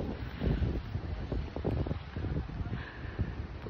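Steady wind gusting across the microphone, a low broadband rumble rising and falling with brief surges, fairly close and continuous.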